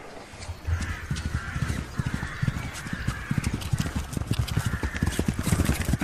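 Horses walking on a royal ride, steady overlapping clip-clop of hooves at a close, moderate level, with faint bird calls in the background.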